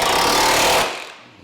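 A power tool tightens a suspension bolt on a 2024+ Mazda CX-90 during a lift kit install, producing one loud, close, rattling hammering burst that cuts off after under a second.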